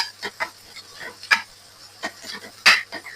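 Ground cumin and salt are stirred into a vegetable cutlet mixture, heard as a few soft scrapes and sharp taps of a spoon against the pan, spaced irregularly over a quiet background.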